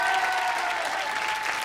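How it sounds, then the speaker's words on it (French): A TV studio audience keeps up steady, full applause throughout the short moment, with a faint tonal hum beneath the clapping. "vous pouvez les applaudir un peu plus"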